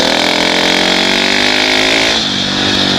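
A 2017 Husqvarna 701 Enduro single-cylinder motorcycle pulling hard in third gear, its loud, close engine note rising steadily before easing off near the end.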